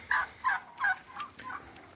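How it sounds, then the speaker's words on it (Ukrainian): Turkeys gobble on a farm in a quick series of five rattling calls, fairly close, each burst fading a little in a steady rhythm. "Індиків ми відсадили"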